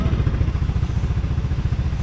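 A motorcycle rides through a flooded street, its engine a close, low, pulsing throb with a rhythmic chug and clatter, steady and fairly loud throughout.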